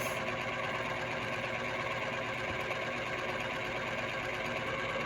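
A chocolate fountain's motor runs with a continuous, even mechanical whir and faint rattling hum, steady and unbroken from start to finish at low level.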